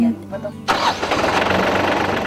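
A farm tractor, borrowed to level a rice paddy plot, cranks and its engine fires abruptly, then settles into a steady close rumble. A voice speaks quietly beforehand.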